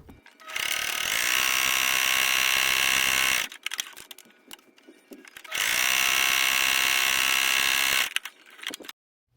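A sewing machine runs a straight stitch on thick fabric in two loud, close, whirring bursts of about three seconds each, separated by quieter handling clicks and fabric rustle.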